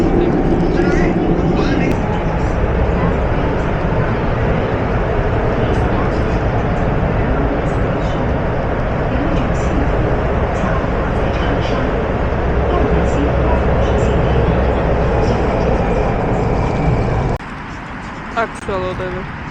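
Steady, loud rumble of a metro train carriage riding through Changsha, China, a continuous roar that drops off near the end as the train slows or stops.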